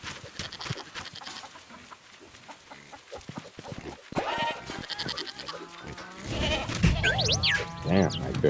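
On a farm with cows and chickens nearby, a billy goat bleats repeatedly in wavering, nasal cries. The bleats grow louder toward the end, with clucking fowl and shuffling in the background.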